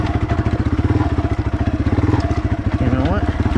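A Yamaha TW200 dual sport motorcycle rides a rocky trail, its single-cylinder engine thumping in a fast, steady pulsing rhythm close by, loud and continuous with slight shifts in pitch as it moves.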